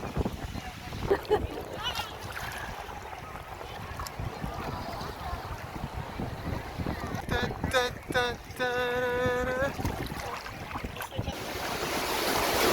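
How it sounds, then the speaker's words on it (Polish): Warm sea waves wash and splash against someone in the water off a cruise stop, amid wind buffeting the microphone, with a person speaking over the surf. "Te fale uderzają mnie."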